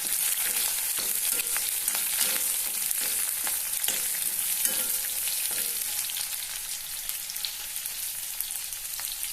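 Chopped onion fries in hot oil in a pan while stinging fish (hingi mas) is prepared, a steady broadband sizzle lasting throughout with occasional stirring scrapes and taps, close and fairly loud, with no one talking.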